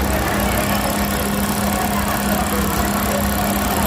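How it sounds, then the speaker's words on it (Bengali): A zigzag sewing machine runs steadily as an operator stitches, a loud continuous mechanical whir with a faint steady hum underneath and no clear pauses. "এই যে এটার উপর দিয়ে কিন্তু জিগজ্যাগ সিলিটা করতেছে"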